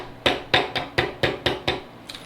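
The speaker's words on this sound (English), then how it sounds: "if I keep hammering and I don't realize that I've already hit the shoulder" A steel chisel is struck by a mallet or hammer while cutting a tenon by hand at a workbench: seven sharp, evenly spaced blows close by, the last one lighter, with no talking.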